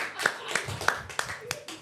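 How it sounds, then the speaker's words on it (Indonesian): Scattered hand claps from an audience at a comedy show, a handful of sharp, uneven claps close by, with a voice talking over them. "Tepuk tangan lu dong."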